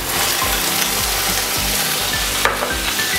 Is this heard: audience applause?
no